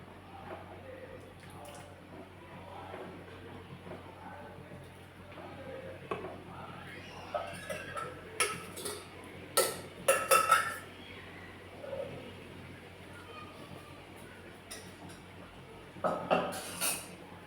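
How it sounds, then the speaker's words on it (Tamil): A spoon scrapes and clinks against a pot as sago is stirred into pineapple payasam. The soft taps and knocks come in scattered clusters, fairly faint, and a voice talks in between. "இந்த ஜவ்வரிசியும் போட்டு நல்லா மிக்ஸ் பண்ணி விட்டுறேன்"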